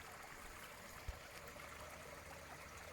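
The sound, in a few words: creek water flowing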